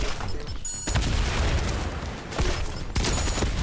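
Gunfire in the video game Fortnite: dense, booming bursts of shots that run almost continuously, with brief pauses between volleys, loud and close.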